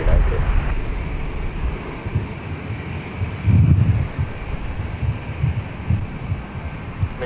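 An airliner, a Latam jet, roars on the north runway at LAX during its takeoff roll, a steady broad engine rumble with a louder swell partway through and talk over it.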